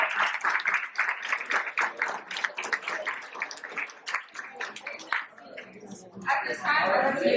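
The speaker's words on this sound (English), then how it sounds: "let's give seniors a round of applause for that" Audience applause rises for graduating seniors at a Senior Recognition Day, dense rhythmic clapping mixed with crowd noise, fading and then swelling again near the end.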